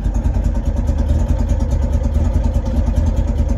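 The engine of a 1960 Volkswagen T1 camper van idles loudly and steadily nearby with a rhythmic, slightly clattering low rumble.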